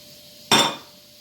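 Kisir salad ingredients stirred with a utensil in a bowl, one short scraping clink and rustle lasting under half a second, fairly close and alone.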